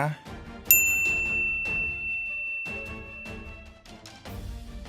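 A bright notification bell rings once with a clear, sharp ding that rings on and fades slowly, set over background music with no spoken words.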